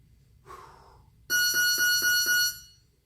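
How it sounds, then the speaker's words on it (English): A faint short tone, then a loud electronic workout timer buzzer beeping five times in quick, even pulses before stopping. "listen for the buzzer."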